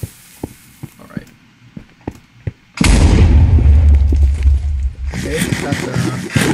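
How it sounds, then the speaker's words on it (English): A large explosion in the video game Minecraft, set off during a survival mining session, bursts in loud and sudden with a deep rumbling roar that carries on for several seconds after a run of quieter game clicks. "rather large explosion"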